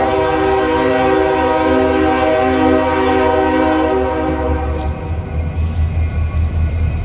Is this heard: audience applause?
no